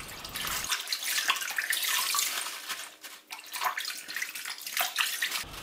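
Chinese cabbage leaves for kimchi rinsed under running tap water, a steady close rush of water splashing over the leaves with brief dips in flow, no voices.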